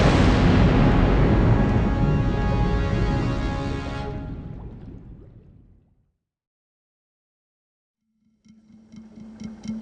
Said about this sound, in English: Il y eut une énorme explosion.